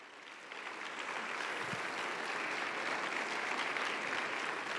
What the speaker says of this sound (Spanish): ¿Podrás darle un aplauso al Rey?